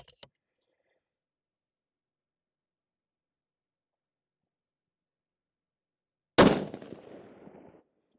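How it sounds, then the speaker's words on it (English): A single loud rifle shot rings out from a barricade, a sharp crack that decays over about a second after a long silence, preceded by faint clicks. "I'm gonna fire another one."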